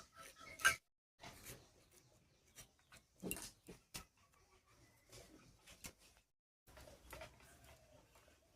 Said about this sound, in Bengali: এবার ভেতরটা চামচ দিয়ে পরিষ্কার করে নিচ্ছি